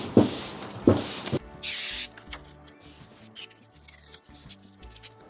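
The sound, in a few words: spray adhesive sprayed onto a sheet of paper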